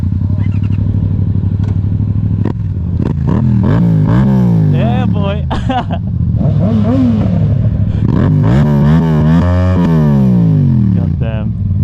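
A Yamaha MT-07 motorcycle engine revs and drones steadily throughout, rising and falling in pitch, while someone talks loudly over it.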